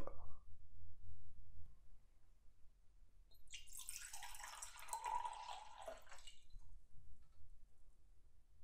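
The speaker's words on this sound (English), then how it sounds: "Pour the water into the other cup." Water is poured from one cup into another, a brief trickling splash up close that lasts a couple of seconds amid quiet.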